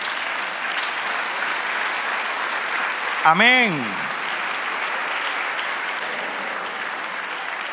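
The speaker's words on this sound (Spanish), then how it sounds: "Denle otro aplauso al Señor" A church congregation claps steadily through a sermon, sustained applause filling the room while a preacher keeps speaking and briefly sings out over it.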